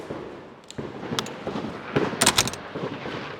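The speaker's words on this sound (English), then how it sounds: "look at the fireworks. They are loud." Loud fireworks burst outdoors at night, a rapid series of sharp cracks and pops that clusters into a dense volley, heard without talking.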